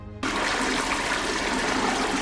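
A toilet flushes with a sudden loud rush of water that starts just after a brief quiet moment and then holds steady and close for the rest of the clip.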